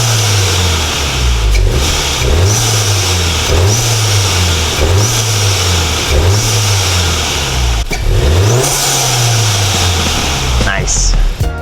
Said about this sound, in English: Let's hear what the turbo sounds like now.